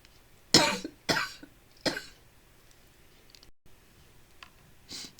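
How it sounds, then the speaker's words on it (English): Three loud, close coughs in quick succession from a person with an irritated throat, followed by quieter breathy sounds and a faint final cough-like burst. "I'm going to start coughing again"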